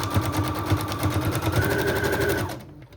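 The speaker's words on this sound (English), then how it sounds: "we will go ahead and run this through the sewing machine next" A sewing machine stitches across the top of old recipe cards to make floating pockets, its rapid rhythmic chatter running close and steady before stopping abruptly near the end.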